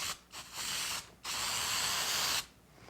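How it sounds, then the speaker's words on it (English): Spray adhesive hisses onto carpet in three bursts, a short one, a brief second, then a long steady spray, close and loud with no talking. "Lightly spray on the carpet, not on the binding"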